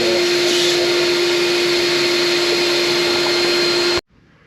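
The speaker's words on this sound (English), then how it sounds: "Just give it a little vacuum" Vacuum cleaner running on a 2019 BMW K1600GT motorcycle air intake, a loud steady whine with a strong constant hum that cuts off abruptly near the end, leaving quiet room noise.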